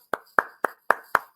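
Five sharp hand claps, evenly spaced and close, each a crisp slap with a short decay, in a quiet room with no talking.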